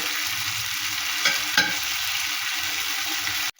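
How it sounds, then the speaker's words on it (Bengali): Partly boiled potatoes sizzling loudly in a pan, with a couple of distinct spatula scrapes as they are stirred, then a sudden cut to near silence at the end. "এবার ভালো করে এটা নাড়াচাড়া করে নেব"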